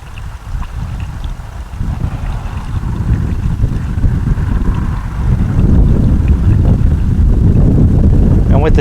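Gusty wind buffets the microphone outdoors while fluid is poured through a funnel, a steady loud rush that builds stronger toward the end and masks any pouring sound.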